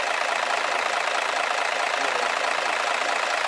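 A truck engine idles with heavy vibration, giving a loud, steady, unbroken rumble that holds level throughout with no speech.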